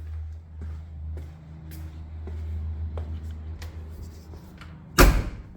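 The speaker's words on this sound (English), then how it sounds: "Kind of got to slam that door. So see, the door closes." A Foxbody Mustang door fitted with a bolt-in roll cage slams shut once, a loud close thump at the end after a few faint clicks and low idle rumble.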